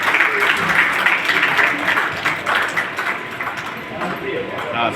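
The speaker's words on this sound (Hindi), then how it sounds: "जोरदार तालियां बजाकर स्वागत करें, अभिनंदन करें।" An audience at a teachers' honour ceremony claps loudly to welcome a student, a dense and steady round of applause that slowly thins near the end, with voices mixed in throughout.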